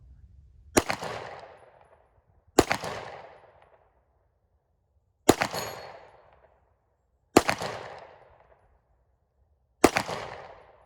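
Five sharp, loud pistol shots from a Glock 17/19 fitted with a pistol brace and firing Norma ammunition through a 4-inch barrel, spaced about two seconds apart, each with a short fading echo.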